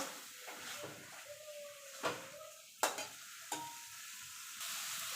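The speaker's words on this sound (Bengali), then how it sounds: "এবার ডিমগুলো দিয়ে দেবো দিয়ে ভালো করে ডিমের সঙ্গে মশলার সঙ্গে ডিমগুলোকে কষিয়ে নেব" Boiled eggs being stirred and fried in oily spice masala for egg curry, a soft background sizzle broken by several sharp clinks and scrapes of a spoon against the pan.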